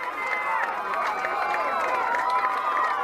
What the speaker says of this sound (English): Bear crowd starting to get into this football game.